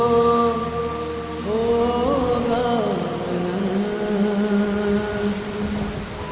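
Heavy rain pours steadily with a distant rumble of thunder, mixed under a dramatic musical score with sustained tones throughout.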